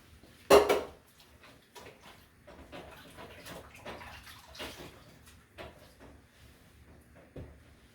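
A hot pan is washed at a kitchen sink with Mrs. Meyer's Snowdrop dish soap: a sharp clank at the start, then running water and scrubbing with occasional knocks of cookware, fairly quiet.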